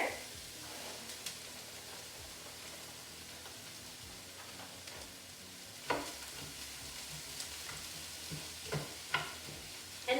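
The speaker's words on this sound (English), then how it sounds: "I'm going to add the cauliflower rice to the skillet with the cooked onion in there." Frozen cauliflower rice frying with cooked onion in a skillet, a steady close sizzle with occasional louder scrapes and clicks of stirring, no talking.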